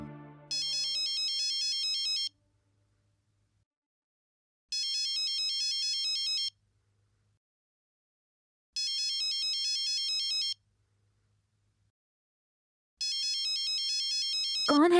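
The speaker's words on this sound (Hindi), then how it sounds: "इतनी रात को किसका फोन आ रहा है?" A phone's electronic ringtone plays at night in four evenly spaced bursts of about two seconds each, separated by silence, with a brief low voice at the very start.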